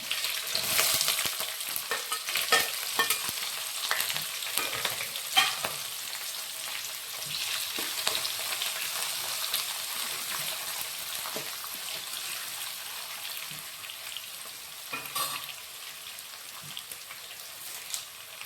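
Green chilies and onions frying in a pan for tamarind rice, a steady close sizzle with spattering pops and intermittent stirring scrapes, fading slightly over time.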